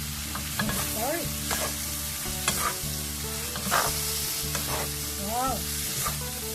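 Spicy stir-fried squid with a spoon of sesame oil sizzles in a pan nearby while a spatula scrapes and knocks in quick repeated strokes over a steady frying hiss.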